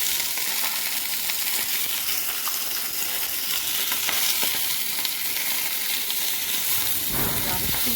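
Fish fries in a pan, giving a steady close sizzle and hiss throughout, with faint stirring and clatter mixed in and no talk over it.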